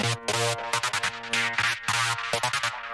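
A psytrance-style saw lead patch from the Dimension 5 synth, played without pitch modulation as a quick chopped riff of bright, buzzy stabs and short sustained notes, loud and close, with no talking.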